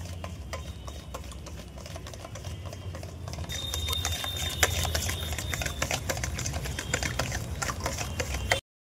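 Eggs being whisked by hand in a bowl for a nolen gur fruit cake: a fast, steady rattling clatter of the whisk, continuous and close, growing slightly louder partway through before stopping abruptly.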